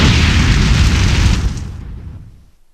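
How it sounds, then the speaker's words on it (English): A loud firework blast booms close by, its dense roar holding for over a second before decaying into a fading rumble and silence. "I think we should be more careful with these fireworks."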